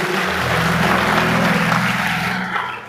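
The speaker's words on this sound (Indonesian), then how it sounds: "Berikan tepuk tangan buat Tuhan Yesus." A church congregation claps in a dense, sustained burst during a service, with a steady low musical tone beneath that fades as the clapping tapers off near the end.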